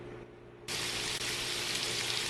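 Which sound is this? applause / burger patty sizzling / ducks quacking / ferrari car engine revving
burger patty sizzling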